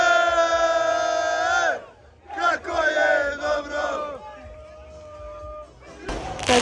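Football fans celebrate a Champions League group win in a dense crowd, loud sustained chanting and shouting that breaks into rowdy bursts of cheering.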